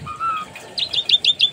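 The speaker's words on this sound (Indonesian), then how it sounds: "ini ada burung biasa kita" Small birds chirp in a home garden, a series of quick, bright tweets repeating in a steady run after a brief higher call, fairly close and clear with no talking.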